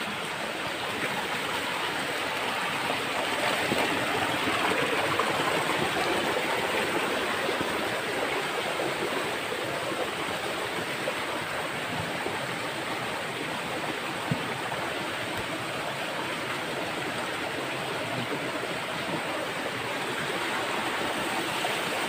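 A creek flows in a video game, a soft, steady wash of running water that stays even and continuous with no voices.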